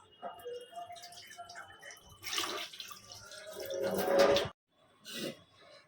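Rice being washed by hand in a pot of water, swishing and splashing in uneven bursts, loudest near the end, with a brief pause before a final splash; close and fairly quiet.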